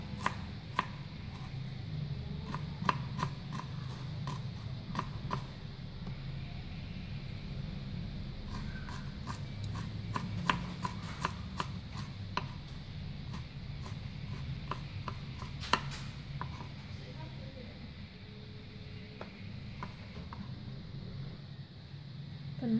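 A cleaver chops raw chicken bones on a board in a home kitchen, giving sharp, irregular knocks that come close and steady over a low, hushed background with no talk.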